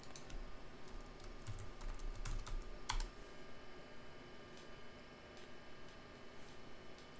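Soft clicking of a computer keyboard as a search is typed, quiet, irregular keystrokes over a low steady background hum, with no one speaking.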